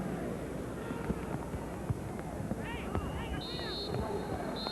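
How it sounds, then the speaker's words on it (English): Fireworks pop and crackle faintly at a 2003 La Liga football match between Mallorca and Sevilla at half-time, sitting beneath constant stadium crowd noise and a commentator's voice. "Some fireworks to finish the first half."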